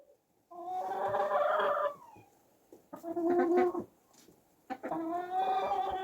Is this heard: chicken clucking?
yes